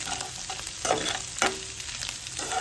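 Fried rice being stirred and mixed in a hot pan, with a steady frying sizzle and a few scraping strokes of a utensil against the pan, close and moderately loud with no talking.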